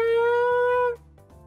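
Trumpet-style lip buzzing: a bright, steady buzzed tone rich in harmonics holds for about a second and then stops abruptly, leaving a quiet low rumble.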